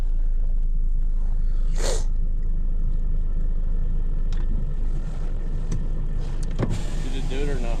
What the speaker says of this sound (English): Why don't you go ahead and start up the car and put it in reverse again?